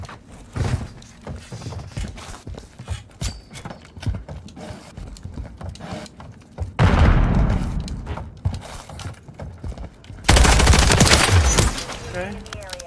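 Gunfire in a Call of Duty: Modern Warfare 3 free-for-all match, with rapid shots and footsteps followed by two heavy, sustained bursts near the end, while a player talks.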